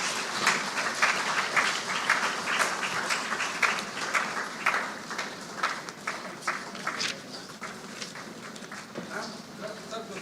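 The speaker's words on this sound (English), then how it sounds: "a warm round of applause, please" An audience at a business school induction ceremony claps in a dense, sustained round that gradually thins out, with some voices under it.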